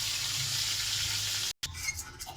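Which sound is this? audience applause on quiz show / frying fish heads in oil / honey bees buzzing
frying fish heads in oil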